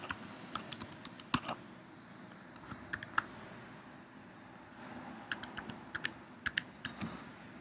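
A password is typed on a computer keyboard in short bursts of quiet clicking keystrokes, separated by brief pauses, with no talking.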